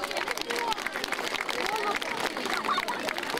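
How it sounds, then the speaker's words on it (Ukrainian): Audience applause at a school award ceremony fills the space as a dense, continuous crackle of many hands clapping, with crowd murmur underneath. "Ваші оплески."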